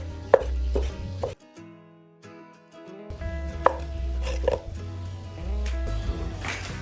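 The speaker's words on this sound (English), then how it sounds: "Now Dad prepares the pork for the sausage. He slices the pork fat first." Knife chopping through pork fat on a board for homemade sausage, with bursts of quick rhythmic cuts separated by brief pauses, close and fairly loud.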